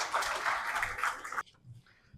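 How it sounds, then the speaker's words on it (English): Panel discussion audience clapping warmly for speakers being introduced, a dense patter of hands lasting about a second and a half before stopping abruptly into near silence, moderately distant and soft. "Please join me in giving them a warm round of applause."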